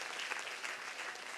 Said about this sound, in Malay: Tepuk tangan kepada saudara Wan Hafizal